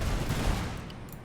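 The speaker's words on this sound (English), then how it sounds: "That was a good final volley" Dense crackling gunfire from a musket volley in Empire: Total War, Imperial Splendour mod, Austrian Balkan campaign, loud and continuous before tapering off at the end.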